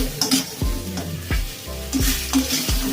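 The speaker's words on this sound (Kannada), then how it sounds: "ಈಗ ಎಲ್ಲನೂ ಚೆನ್ನಾಗಿ ಫ್ರೈ ಮಾಡಿ" Onions frying in a pan with tamarind and salt, a steady sizzle broken by regular scraping strokes of a spatula stirring, close and clear.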